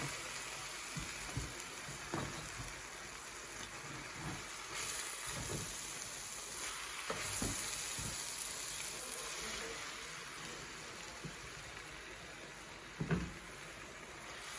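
Beef stew with covo greens simmers in a pot, a soft steady sizzle and bubbling throughout, with occasional knocks of a utensil against the pot.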